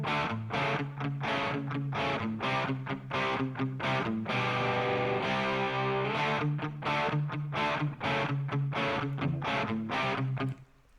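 Two double-tracked distorted electric guitars from AmpliTube 5 play together in a steady, loud chugging riff with a few sustained chords, ending abruptly.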